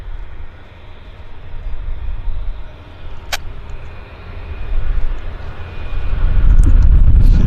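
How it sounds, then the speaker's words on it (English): A United Airbus airliner taxis back to its gate at Vancouver airport, a low continuous engine rumble with wind noise that swells louder toward the end, heard from a distance outdoors with no talking. "We can now follow United back to their gate."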